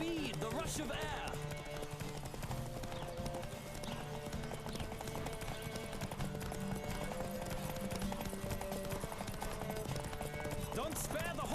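A horse gallops in a race in The Witcher 3, with steady rapid hoofbeats running throughout under game music and occasional voices.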